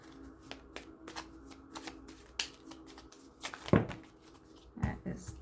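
Tarot cards are shuffled and riffled close by in a quiet room, a series of soft flicking bursts and papery slaps at an uneven rhythm, with a couple of louder card snaps toward the end.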